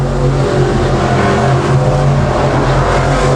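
Race cars circle the track at Devil's Bowl Speedway, a loud, continuous wall of engine roar from several cars running together, close by and steady throughout.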